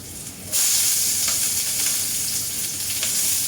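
Garlic and onion hit a hot pan and start sautéing, a sudden loud sizzle that settles into a steady frying hiss with occasional scrape and stir sounds.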